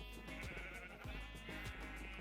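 Sheep bleating in the video game Minecraft, several short wavering bleats repeating over a steady bed of in-game ambience, with no one talking.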